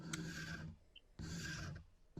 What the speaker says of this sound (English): And then I can use a card scraper to get closer to the final finish.